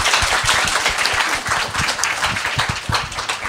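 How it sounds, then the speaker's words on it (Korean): A room of young church leaders at a summer retreat forum claps in a lively, fairly loud, steady patter for several seconds, with a few sharp hand claps standing out close by. "박수."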